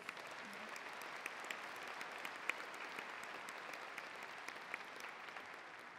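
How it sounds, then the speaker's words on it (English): A crowd applauds at the St. Charles Community College commencement ceremony, a steady, distant wash of many hands clapping that continues evenly, with a few sharper claps standing out and no talking over it. "Let's give everyone a round of applause."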